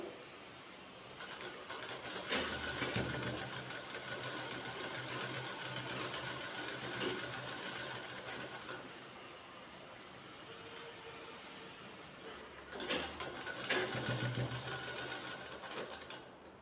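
A sewing machine runs steadily while stitching a shirt collar, a long continuous whir that stops around twelve seconds and then starts again briefly for a second stretch.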